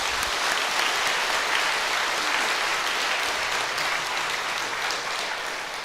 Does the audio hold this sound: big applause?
yes